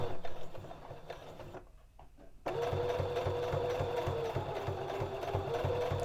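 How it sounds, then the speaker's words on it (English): A sewing machine stitches a narrow hem with a fast, rhythmic mechanical whir that pauses briefly and then resumes at an even pace, close and alone. "I'm going to take my time and sew all the way around."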